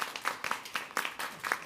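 A small workshop audience claps in short, loose bursts. The individual hand claps are distinct and fairly quiet, coming in an uneven rhythm over a couple of seconds.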